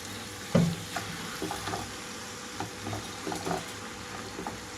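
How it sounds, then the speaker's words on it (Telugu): Soaked chana dal and gongura leaves sizzle and fry in a pan, with a soft steady crackle, a few stirring scrapes and light clinks, no talking. "ఇక్కడైతే నానపెట్టుకున్న శనగపప్పును వేసేసుకుంటున్నాను అలాగే గోంగూర కూడా"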